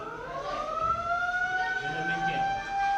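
An emergency siren holds a long, steady wailing blast for the whole stretch, loud and continuous with a slight rise and fall in pitch, heard outdoors at a school outing.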